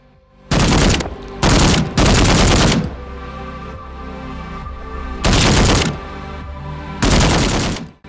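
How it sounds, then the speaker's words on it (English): Gunfire in the VR zombie shooter Contagion VR Outbreak on PS4 Pro, heard as four loud, close bursts of rapid shots separated by short pauses, with a low rumble hanging between them. "The gun sounds are shockingly really decent here in Contagion"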